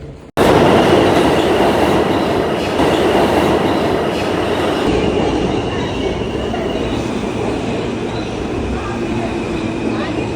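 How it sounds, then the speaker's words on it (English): A New York F subway train bound for Coney Island rides along loudly, with continuous rumbling, rattling wheels and a high squeal, steady for the whole stretch. "we're taking the train F straight to Coney Island"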